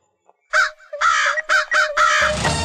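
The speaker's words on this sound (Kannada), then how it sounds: "ಅಲ್ಲೆಲ್ಲ ಫುಲ್ಲು ಕಾಗೆಗಳೇ ಸೇರ್ಕೊಂಡ್ಬಿಡುತ್ತೆ" Crows in a park caw loudly and close by, four or five harsh, drawn-out calls in quick succession with short gaps between them.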